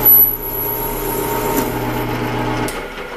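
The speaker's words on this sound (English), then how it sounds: "I'm going to use this odd little tool to face off the piece" A lathe tool faces off the rough bandsaw-cut end of a metal piece, giving a steady whining machine hum with a grinding cutting tone that runs evenly for about three seconds, then eases.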